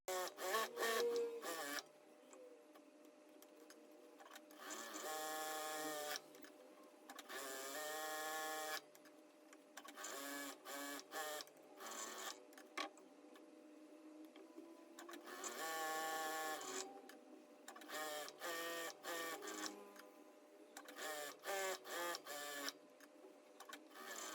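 A sewing machine runs straight stitches along a salwar hem, humming in repeated bursts of a few seconds each with short stops between, close but quiet.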